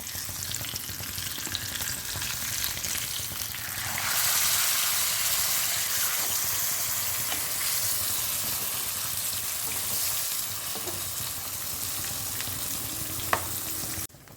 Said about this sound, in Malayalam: ഇനി ചെറിയ തീയിൽ നമുക്കിതൊന്ന് ഷാലോ ഫ്രൈ ചെയ്തെടുക്കാം